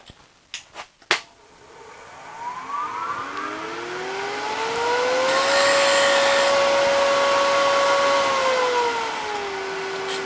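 Wood lathe spinning a turned wood piece as burn lines are made, with a few sharp knocks at first, then a steady whirring hum whose pitch rises as the lathe speeds up, holds and then drops.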